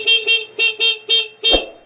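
A repaired motorcycle horn honks five or six times in short, loud, evenly spaced bursts, each a bright steady electric tone, with the last blast slightly longer.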